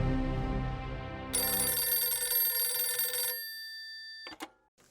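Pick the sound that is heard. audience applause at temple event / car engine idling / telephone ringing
telephone ringing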